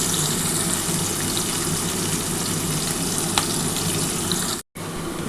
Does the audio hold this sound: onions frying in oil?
yes